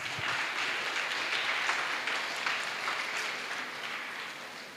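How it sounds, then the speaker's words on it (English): An audience at a palliative care hybrid event applauds as a solar installation company's project manager is welcomed, a steady round of clapping that gradually fades over nearly five seconds. "with a big round of applause"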